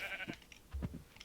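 A few short, soft bleats of a lamb in Minecraft, faint and brief, with a small thump near the end; no talking.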